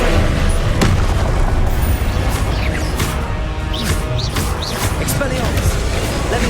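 Booming blasts of the Confringo fire spell in Hogwarts Legacy, heavy and close over a dense, loud wash of spell and combat effects, with a voice talking throughout.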